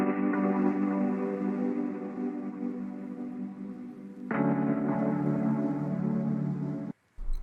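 Rhodes electric piano chords, bounced to audio and run through cassette, reel and delay effects, sustain in warm, slightly muffled layers, with a new chord striking midway and a brief dropout near the end.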